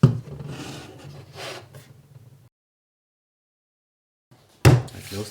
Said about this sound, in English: I close the tank again.